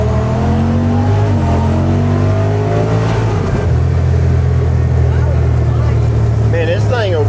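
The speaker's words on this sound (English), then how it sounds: "throw this mud off of my brother's tires" A vehicle revs hard to spin mud off its tires, a loud, close, continuous engine roar that climbs in pitch and then steadies, with mud spatter mixed in.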